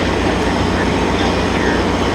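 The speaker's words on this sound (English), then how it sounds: "here's the southbound Cal train" A southbound Caltrain commuter train passes close by on the Bay Area line, a steady loud rumble and rolling clatter that fills the whole stretch without fading.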